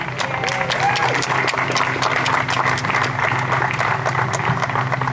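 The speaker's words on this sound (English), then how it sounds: "I think we should all give them a cheer here" An outdoor crowd at a garden dedication applauds with scattered cheers, steady sharp clapping lasting several seconds, fairly close, with some voices mixed in.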